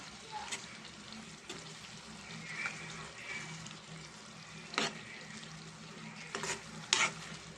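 Coarsely crushed cumin and garlic paste stirred in a hot pan for a potato-tomato curry: a low steady sizzle with occasional close spoon scrapes and clinks, louder near the end.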